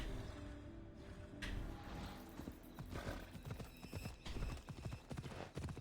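Steady clip-clop of horse hooves trotting in Assassin's Creed: Odyssey, with occasional snorts and a game soundtrack humming beneath.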